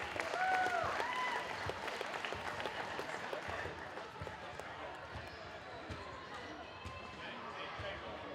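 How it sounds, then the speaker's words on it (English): A crowd at a Mid Michigan College basketball game applauds for the players and their parents, moderately loud scattered clapping mixed with a few ball bounces and squeaks, with an announcer speaking over the start. "One last round of applause for our players and their parents for supporting them throughout their career."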